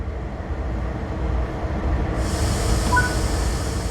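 A low rumbling train engine and rolling wheels in the video game Train Sim World 3 build steadily as a hiss of air rises partway through, sounding like a locomotive beginning to move after the independent brake releases.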